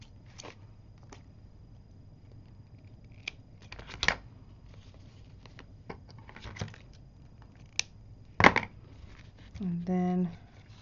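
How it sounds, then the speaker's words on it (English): Scissors snip strings off a small handmade craft gift in a handful of sharp, scattered cuts and rustles, close and quiet, with a brief voiced sound near the end. "I can cut these strings off now."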